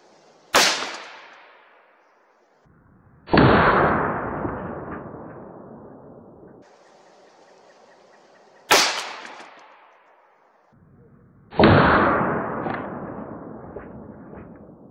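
A .22 ARC rifle fires Hornady ELD-X and CX loads into ballistic gel. Four sharp, loud shots sound a few seconds apart, and each booming report decays slowly between quiet gaps.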